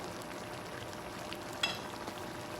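Beef stroganoff cooking in a frying pan, sizzling and bubbling in a steady, soft crackle close by, with one brief sharper spit partway through and no voices.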